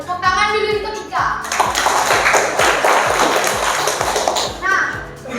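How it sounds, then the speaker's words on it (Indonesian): Students in a classroom clap for a classmate named Ika, with lively, uneven applause and children's voices chattering over it throughout. "Tepuk tangan dulu untuk Ika."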